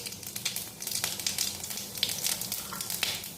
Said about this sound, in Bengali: এতে একটা শুকনো লঙ্কা ফোড়ন দেব